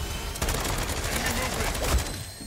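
Gunfire from the Bruin gun in MW3 Zombies, a dense, steady stream of rapid automatic shots lasting a couple of seconds, loud and close amid game noise.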